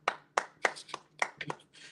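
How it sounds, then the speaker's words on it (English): A group clapping hands at a class gathering, a series of sharp, uneven claps in quick succession, fairly close and without talk. "All right, let's go ahead and clap it up."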